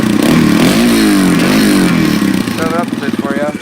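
An ATV, a four-wheeler with a cheap aftermarket exhaust, revs up close and loud in rising and falling bursts, with a raspy blat that settles into a choppy idle.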